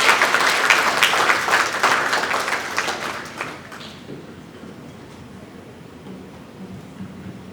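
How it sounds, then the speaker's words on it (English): Applause from a luncheon audience for two speakers at an infrastructure and construction club event: a dense roar of many clapping hands that fades out after about four seconds into quiet room tone. "Please give them a round of applause."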